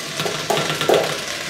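Ingredients go into a hot pot and sizzle, with a couple of louder bursts of frying and stirring over a steady background hiss.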